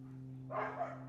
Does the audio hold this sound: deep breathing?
no